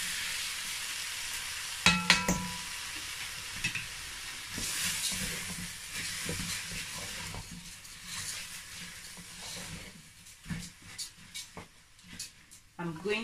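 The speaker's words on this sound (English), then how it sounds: "I'm going to stir fry this rice for about 3 minutes." Washed rice being stir fried in a pot on a cooker, with a steady sizzle and hiss and repeated scraping stirs, loud and close throughout.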